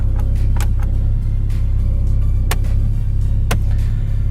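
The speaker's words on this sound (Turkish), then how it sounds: "şöyle bir arabayı çalıştırıp da bir deneyelim beraber" A VW Polo engine runs steadily after starting, a loud continuous low rumble with a few sharp clicks or knocks on top, heard alone without talk.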